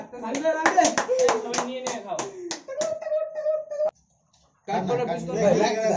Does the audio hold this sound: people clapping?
yes